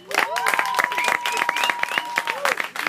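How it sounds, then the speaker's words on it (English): Applause for a theatre collective rises at a small venue, with a crowd clapping close by under cheering voices and a sustained whistle-like tone that sweeps through the sound. "Give the Theater Collective a round of applause."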